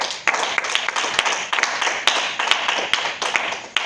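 A church congregation claps together in praise of the Lord, a brisk, fairly regular run of sharp handclaps at close range, loud and continuous with no voices over it.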